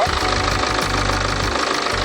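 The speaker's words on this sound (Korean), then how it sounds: "엔진은 정상적인 디젤 엔진 소리라고 말씀드릴 수 있고요" A BMW 3 Series GT's N47 diesel engine idles steadily close by, with a rough, rhythmic knocking clatter beneath a constant mechanical hum.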